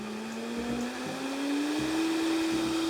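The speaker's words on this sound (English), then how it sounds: "Just go ahead and plop this in your Vitamix or blender." A Vitamix blender whirs steadily while puréeing celery root with thyme and cardamom, its motor pitch slowly rising as the mixture smooths out, loud and close with no talking.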